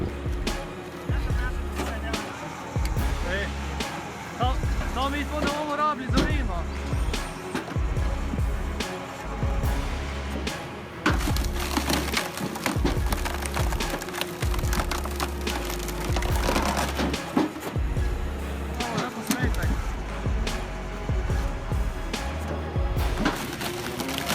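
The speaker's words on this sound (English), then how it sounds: "With 31 tons of splitting force, it handles tough knots and stubborn logs." A Kirpan CH32 hydraulic log splitter with 31 tons of force splits tough, knotty logs, producing repeated woody cracks, snaps and thuds over a steady low machine drone, with some voice heard in the mix.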